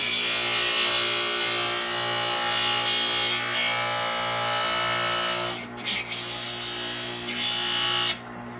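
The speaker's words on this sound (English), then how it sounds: "Then we'll use the grinder." A glass grinder smooths the edges of a glass piece for a glass-on-glass turtle, a loud continuous harsh grinding hum that briefly dips twice near the end as the piece is lifted.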